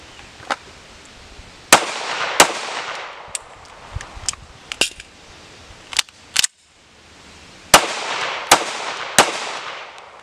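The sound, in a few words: pistol shots fired during practice drill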